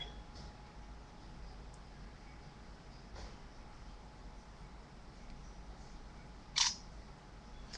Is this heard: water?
no